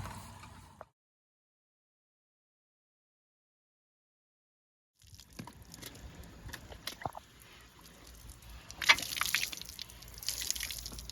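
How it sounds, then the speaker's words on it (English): Water squirts and splashes onto a Ford 289 engine block in a garage, a close, uneven hiss and spatter with drips that swells in bursts after a stretch of silence. "we're squirting water all over that same block"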